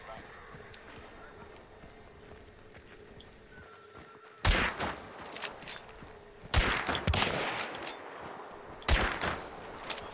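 Hunt: Showdown gunfire comes as several sharp, loud shots spaced a couple of seconds apart. Between them sits a low, quieter background, and people talk at points.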